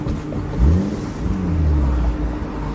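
Infiniti G35 with a manual transmission revving while driving, engine pitch sweeping up and down in a loud, close, steady drone with a sharp surge near the start.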